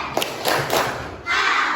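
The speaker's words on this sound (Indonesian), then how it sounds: "Tepuk tangan soleh." Young schoolchildren in a combined grade 2 and 3 classroom clap a few quick rhythmic beats up close, followed by a rush of noisy classroom sound.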